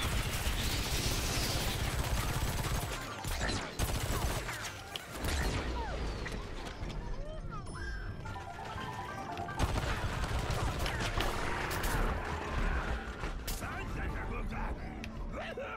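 Rapid gunfire from a Plants vs Zombies: Garden Warfare 2 battle, with repeated shots and impacts crackling amid a busy game soundscape while someone talks over it throughout.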